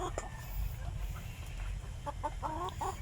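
Rhode Island hens cluck in short, repeated bursts at close range in a backyard coop, over a steady low rumble of background noise.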